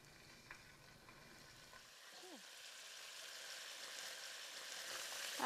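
Bone-in chicken thighs hit a hot pan and start to sizzle, a soft crackling hiss that grows steadily louder over several seconds, with light scraping and faint background noise.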